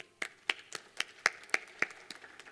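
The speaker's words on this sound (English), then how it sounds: "A big applause for them, please." Scattered, sparse clapping from a small audience at a climate adaptation week event in Chile, about ten distinct sharp claps spread irregularly over a few seconds, fairly close and clear.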